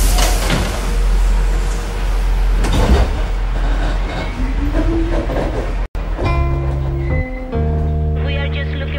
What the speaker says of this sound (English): here on the train now